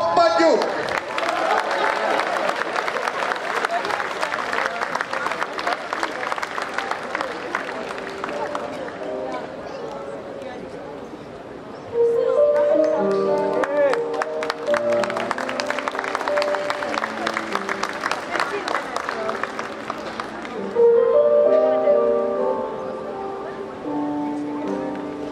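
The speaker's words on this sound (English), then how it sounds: "Warm round of applause for Vasily Bakuk." An audience bursts into loud, dense applause at the Toronto Ukrainian Festival, and the clapping comes back in waves alongside music and voices.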